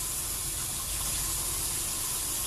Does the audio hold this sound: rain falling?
no